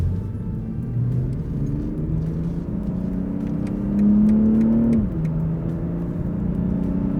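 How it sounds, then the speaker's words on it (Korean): A BMW 840i Gran Coupe engine revs slowly and steadily, a smooth low hum climbing gradually in pitch before dropping back to idle, heard alone and fairly close. "이게 제가 지금 한 게 RPM을 일부러 좀 천천히 올려본 거거든요"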